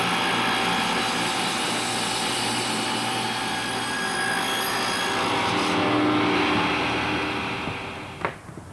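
A table saw whines steadily through a long cut in wood, loud and close, the motor tone shifting near the end before winding down.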